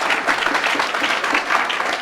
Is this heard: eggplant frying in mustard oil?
no